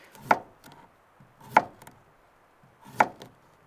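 Three sharp chopping knocks of a pocket knife cutting vegetables on a cutting board, evenly spaced about a second and a half apart, close by, with faint scraping between strikes.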